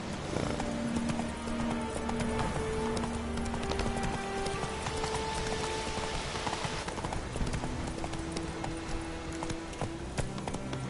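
Geralt's horse Roach galloping in The Witcher 3, a steady rapid clip-clop of hooves under rain and music, close and continuous throughout.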